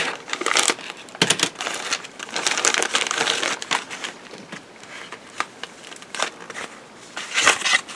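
A plastic bag crinkles loudly and close-up as the hull of a Trumpeter 1/35 Russian 9P157 Khrizantema-S model kit is pulled free, in irregular rustling and crackling bursts with brief pauses, no voices.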